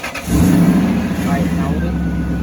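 A Lexus LS400 car engine cranks and catches about a third of a second in, then settles into a loud, steady, close-up idle rumble that lasts to the end.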